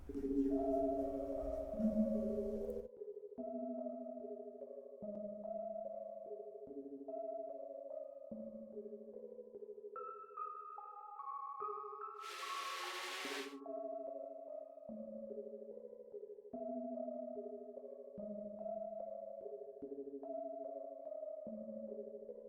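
A dry synth melody of repeated stepped notes with a steady rhythm, a brief bright noisy burst near the middle, no effects on the tone.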